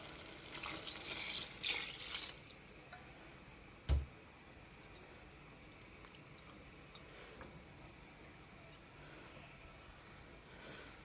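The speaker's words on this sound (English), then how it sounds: "And now I'm going to add some water." Tap water rushes into a cooking pot of curried cow head and tripe for about two seconds, then stops, followed by a single knock and quiet room tone with faint ticks.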